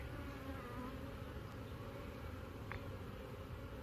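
A dense, steady drone of many honeybees buzzing together inside an open hive, close up and continuous, with no voices.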